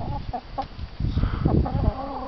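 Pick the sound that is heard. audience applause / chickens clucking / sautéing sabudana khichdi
chickens clucking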